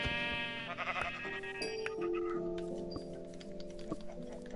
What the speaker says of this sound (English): There's a bunch of sheep.